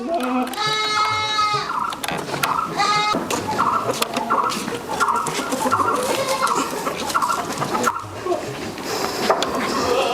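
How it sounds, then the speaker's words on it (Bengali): A Totapuri buck goat on a goat farm bleats in a few loud, wavering calls, mixed with chickens clucking and people talking nearby. "এটা ভাই পাটা ভাই তোতাপুরি পাটা দেখেন"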